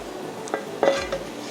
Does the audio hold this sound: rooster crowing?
no